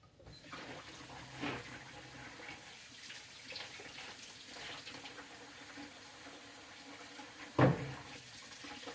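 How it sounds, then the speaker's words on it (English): Hands washed under a running kitchen tap, water streaming steadily at moderate distance with a few splashes and one louder clunk near the end. "I'm over here washing my hands"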